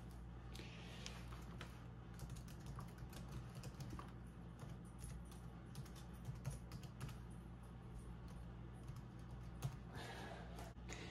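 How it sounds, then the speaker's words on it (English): A computer keyboard is typed on steadily at close range, with quick irregular clicks and short bursts across the whole stretch, alone and without voices. "I'm gonna type in my Juno information"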